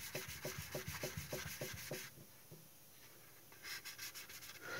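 Fine 1200-grit sandpaper rubs rhythmically back and forth on a small plastic Heller Canadair model part, quick regular strokes close up, pausing briefly before resuming.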